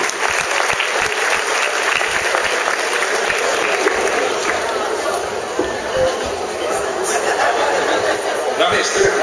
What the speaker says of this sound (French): J'aimerais qu'on applaudisse tout le monde ensemble